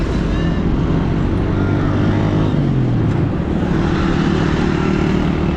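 Steady road traffic noise in Faisalabad with a vehicle engine droning close by, a motorbike humming along without pause throughout.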